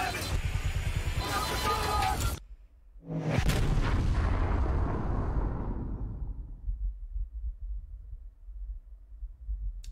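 A heavy vehicle crash in Ghost Recon Breakpoint: a loud roaring rumble cuts off abruptly, then a booming impact hits and slowly dies away into low rumbling quiet.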